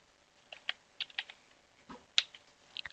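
Keystrokes on a computer keyboard as an app name is typed on Linux Mint, a sparse run of light clicks in small clusters, close and fairly quiet with no talking.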